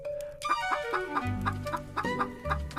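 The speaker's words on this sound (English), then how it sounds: "The chicken immediately laid a shiny golden yellow egg." A chicken clucks in a quick, uneven run of close, clear calls, alone without talk.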